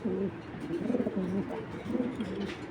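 A pair of white tracer racing pigeons coo close by in soft, repeated throaty phrases that come in several short rolling bursts.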